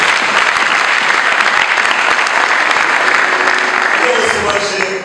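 Loud, sustained crowd applause at a church gathering with a visiting pastor in Musanze, continuous and dense before tapering slightly at the end, with voices underneath.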